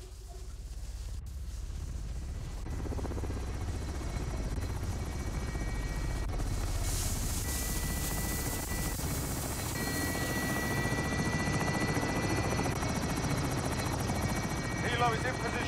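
A helicopter in the video game Call of Duty: Modern Warfare drones with a steady rotor roar, swelling from quieter to louder and holding close and continuous, with game voices and effects layered over it.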